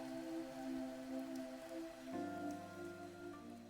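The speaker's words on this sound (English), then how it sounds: "But even the rain soon began to weaken." Steady rainfall in the Fantasian Neo Dimension video game, a continuous wash of drops on surfaces under a sustained musical drone that shifts partway through, with no voices.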